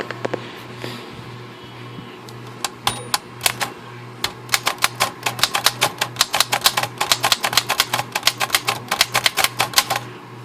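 Remington Portable 3 typewriter with large type, recently repaired, typing close up: sharp individual key strikes, slow and sparse at first, then a fast steady run of clacks over a low hum.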